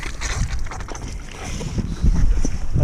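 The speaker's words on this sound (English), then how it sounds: "it's got hose pipes where we can wash down the bikes like this" Water from a hose pipe washing down touring bicycles at a campsite: a steady gushing spray with splashing bursts that grow stronger toward the end, along with some wind noise.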